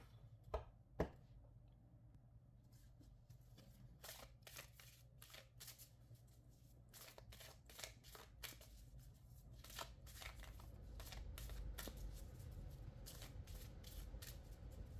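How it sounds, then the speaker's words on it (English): Tarot cards being shuffled repeatedly, with crisp riffling bursts and taps in an irregular rhythm, close up, over a low steady air-conditioner hum. "So I'm going to go ahead and shuffle that up."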